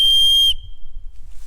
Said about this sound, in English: So it's a survival whistle.